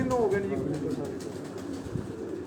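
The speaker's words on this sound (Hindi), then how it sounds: "उनका 3 कबूतर उनके बैठे हैं।" Three pigeons cooing softly in low, throaty bursts, mixed with a voice talking nearby.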